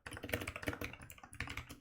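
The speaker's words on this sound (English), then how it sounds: "Angry German typing." Rapid, forceful typing on a computer keyboard, with irregular bursts of clattering keystrokes close to the microphone and no talking.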